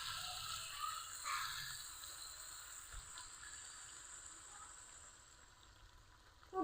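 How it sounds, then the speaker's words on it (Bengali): Crab and pumpkin frying in a pan as water goes in, giving a steady, fairly faint hiss and sizzle that continues evenly throughout. "এখন জল দিয়ে দিব।"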